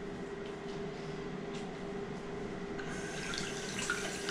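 Tap water runs steadily into a sink while makeup brushes are washed, a continuous close hiss and splash that grows a little louder and brighter toward the end, with no talking.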